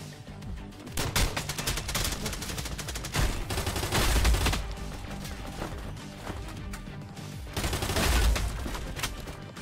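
Shotgun fire in a VR shooter game: loud repeated blasts in quick succession with crashing impacts, dense and close over game noise.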